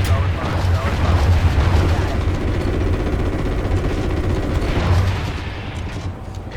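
Continuous heavy gunfire from attack helicopters in a military video game, a loud dense rumbling barrage that runs throughout before easing slightly at the end.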